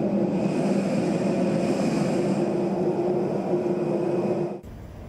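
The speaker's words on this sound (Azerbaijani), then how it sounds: "ilk dəfədir Füzulidən Gəncəyə təyyarə uçur" Airplane flying from Fuzuli International Airport toward Ganja, a steady loud engine roar inside or near the aircraft that holds constant for several seconds, then cuts off abruptly near the end.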